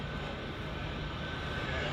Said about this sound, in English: Today, the Pacific Air Force's aerial demonstration team will be showcasing America's premier airlifter, the Boeing C-17 Globemaster III.